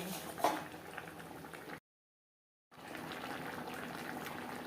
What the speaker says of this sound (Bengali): গ্রেভির সাথে মাছ আরও তিন চার মিনিট রান্না করব